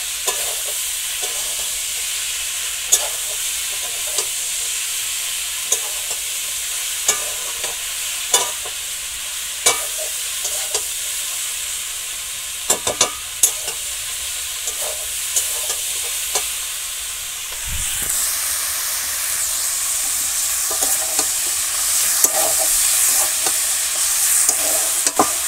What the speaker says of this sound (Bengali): দিয়ে এখন এটা আস্তে আস্তে করে ভেজে তারপর পুঁই শাকটা দিয়ে দেবো।